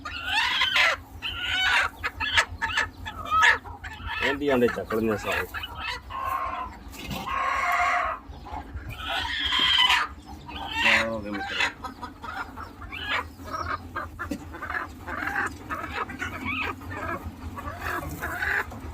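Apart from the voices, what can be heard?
broody hen clucking on eggs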